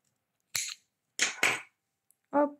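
Close scissors snip thread on an embroidery canvas: four short, crisp cuts in near silence, two of them in quick succession.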